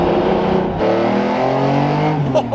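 Lamborghini Diablo GT engine revving close by, a loud throaty roar that rises and climbs in pitch with a brief dip, without speech.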